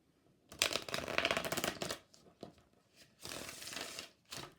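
Tarot cards from a handmade deck being shuffled, with two long bursts of riffling and flicking separated by a pause, followed by a short final flutter, close and fairly quiet with no talking.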